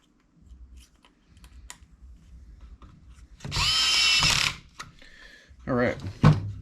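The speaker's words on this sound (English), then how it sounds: "now we'll screw down that pressure relief valve" A power screwdriver drives a screw into the pressure relief valve of a Bissell steam mop under repair, a loud steady whir of about a second, with faint clicks and handling noises before and brief rattles after.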